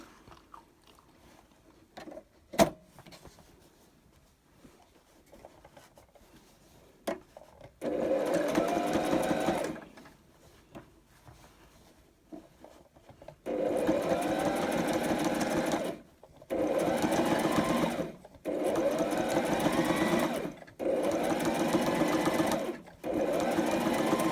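Sewing machine stitching straight quilting lines on fabric for a tote bag: several sustained bursts of rapid mechanical whirring, separated by short pauses, close and clear with faint handling noises between runs.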